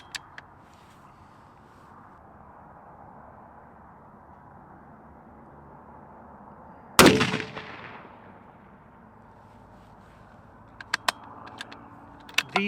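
A single loud rifle shot cracks at the range during load development, its boom ringing out and fading over a couple of seconds, followed later by a few faint metallic clinks over low outdoor background.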